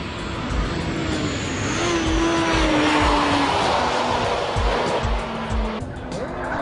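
Honda Civic EK9 Type R with a 1,600 cc engine driving hard through chicanes, a steady high-pitched engine whine rising and holding with tire noise, close and loud, with no talking.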